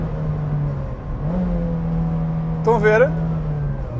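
A car braking in fourth gear while the driver heel-and-toe downshifts: a steady, close engine drone rises briefly in pitch as the revs climb, then settles, while someone speaks Portuguese over it.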